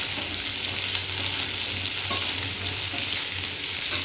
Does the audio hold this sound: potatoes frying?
yes